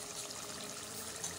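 A little water trickles and pours into a pan of highway-style chicken karahi, a soft, steady liquid splash with no one talking.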